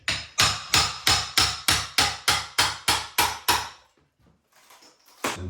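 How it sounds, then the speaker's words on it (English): A hammer smashes out an old wooden interior door liner in about a dozen loud, evenly spaced blows. The blows stop, a quiet pause follows, and a single final strike comes near the end. "There's no technique, just smash it."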